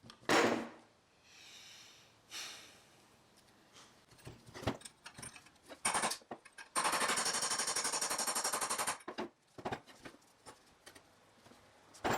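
Hammering on a Ford air pump (smog pump) being freed for repair, sped up to a fast clattering: rapid metallic strikes in bursts and a long dense rattle, close and sharp, with no talking.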